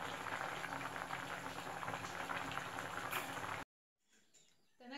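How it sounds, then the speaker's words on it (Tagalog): Seashells simmering in coconut milk bubble at a steady, dense boil for several seconds before the sound cuts out abruptly, leaving a faint rustle. "Kumukulo na ang ating ginataang shells."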